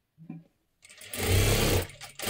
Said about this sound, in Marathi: आता ह्याच्यावरती परत एकदा डबल शिलाई देऊन घ्यायची आहे।